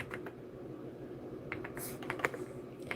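Quiet, quick clicking of a computer keyboard being typed on during a live stream, with irregular keystrokes and a few sharper clacks, with no talking.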